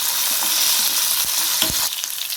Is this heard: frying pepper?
yes